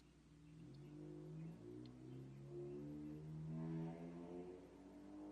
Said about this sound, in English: All my neighbors decide to pull their old ass cars out the garage this Saturday evening.